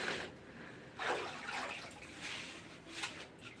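Stream water splashes and swirls in a gold pan in a creek, with soft sloshing surges at intervals, fairly close and not loud, no talk.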